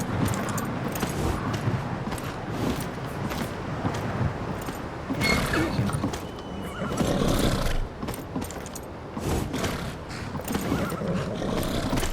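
Horse-drawn carriage in Skyrim, with a horse neighing and snorting amid clopping hooves and rattling harness over a busy, continuous outdoor din, fairly close and steady throughout.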